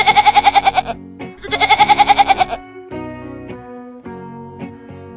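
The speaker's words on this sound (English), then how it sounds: "Goat." A goat bleats twice, loud and close, each call a wavering, quavering cry, followed by quieter tonal sounds.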